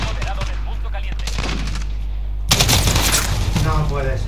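Rapid automatic gunfire from the video game Call of Duty Modern Warfare erupts halfway through, loud and dense after a quieter stretch of game sounds and voices, with talking mixed underneath.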